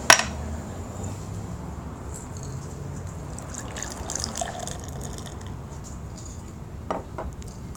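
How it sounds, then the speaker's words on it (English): De Troch oude gueuze beer pours gently into a beer glass with a soft, steady trickle after a brief clink, a few small knocks near the end. "Just gonna pour a small amount of it so I could release the flavor."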